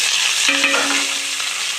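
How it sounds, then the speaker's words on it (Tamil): Steady broadband sizzle of chopped shallots frying in a pan, with scraping stirring strokes and a brief metallic ring; no talking. "குட்டியாக நறுக்கி வச்ச உள்ளியை தட்டி நல்லா கிளறி கொடுக்கணும்"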